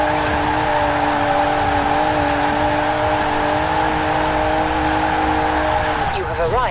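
A 1991 GMC Syclone in Forza Horizon 4 holds a steady, loud engine drone in fourth gear for several seconds, its pitch barely changing, before a brief shift in tone at the end.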